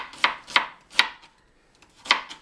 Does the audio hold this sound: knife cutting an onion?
yes